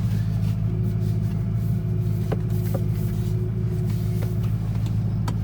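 A 2006 Ford GT with a muffler delete driving along, a steady low engine drone heard from inside the car, constant and fairly loud with a few faint clicks.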